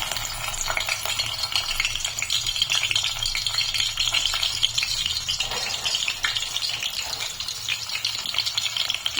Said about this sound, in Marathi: तेल पण तापले, त्यामध्ये मी ऍड करते ठेचला लसूण